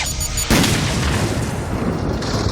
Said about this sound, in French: Tiger équipe son arbalète de munitions explosives.